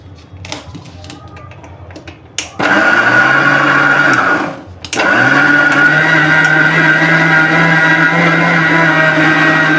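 A mixer grinder whirs loudly as it grinds amla, starting after a few handling knocks, cutting out briefly for a pause, then roaring back on in a steady high-pitched motor whine.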